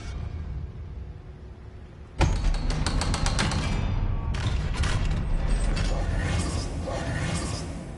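Heavy door in Hogwarts Legacy grinding open with a mechanical ratcheting creak, starting abruptly after a quiet lead-in and continuing as a loud, rattling clatter of gears that fades slightly toward the end.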